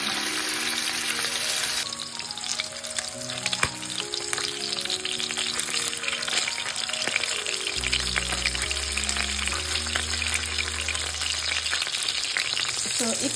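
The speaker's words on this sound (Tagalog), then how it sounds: "Ngayon, magluto ako ng sweet and sour na fish. Lutuhin natin muna yung isda." Fish sizzles steadily in hot oil for sweet and sour fish, a constant bright crackle with occasional louder spits and a low humming tone running beneath it, heard close up without talk.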